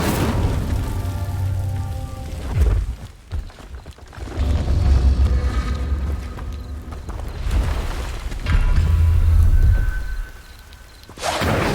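The Incendio fire spell in Hogwarts Legacy roars out in repeated whooshing, rumbling bursts with low booming surges and crackling noise, loud and separated by brief quieter gaps.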